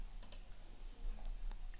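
Faint, sparse computer mouse clicks, a few isolated taps spaced apart over low background hiss, with no talk.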